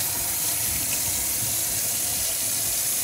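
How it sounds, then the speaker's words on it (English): Running tap water splashing steadily into a sink as hands are washed, a continuous broadband hiss of moderate loudness with no talking. "And then wash my hands"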